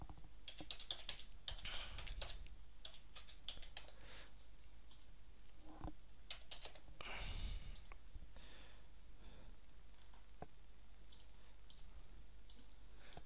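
Keys clatter on a computer keyboard as card details and a CVV security code are entered, quick irregular bursts of close typing with short pauses over faint room hiss.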